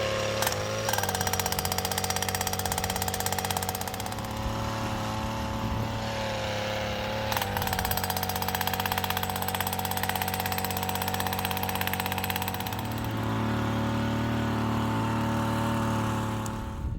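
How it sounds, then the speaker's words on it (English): A gas-powered fence post pounder drives posts into rocky ground, its engine running steadily and loud and close throughout with a constant mechanical drone and rattling hammer clatter, no talk over it. "this is our new fence post pounder, gas powered"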